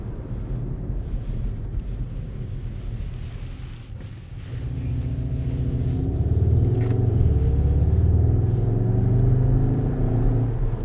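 A Skoda Octavia RS engine's low exhaust rumble swells over steady road and wind noise, growing louder and deeper in the second half.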